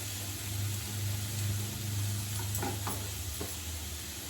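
Cinnamon, cloves and onions sizzling softly in hot oil in a home kitchen pan for pepper chicken gravy, a faint steady fry with a low hum and a few light clinks near the end.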